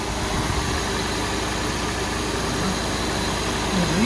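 A second generation Toyota Prius engine runs after an inverter coolant pump replacement, a steady, close, continuous hum with a low rumble that holds an even idle throughout, with no voices.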